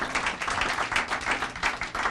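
Audience applause at a United Way big check presentation, a brief burst of scattered clapping from a modest crowd that pulses unevenly throughout.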